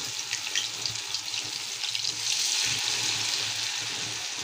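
Marinated Bombay duck (lotte) fish pieces frying in hot oil, a close, steady hiss of sizzling with a few faint pops and a slight swell midway, no voices.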